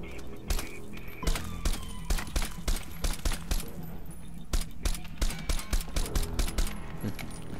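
Gunfire in Crysis 2: a string of sharp, close shots in irregular singles and quick bunches, mixed with small metallic clinks and thuds, moderately loud with no talk.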